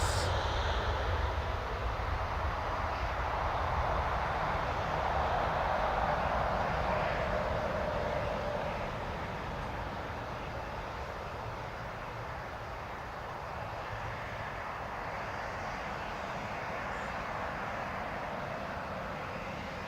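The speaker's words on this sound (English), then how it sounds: "There goes Ryanair 737 Max" A Ryanair Boeing 737 Max jet passes at Newcastle International Airport with a steady broadband roar. It is loudest early on and eases gradually as the aircraft moves away, with no talking.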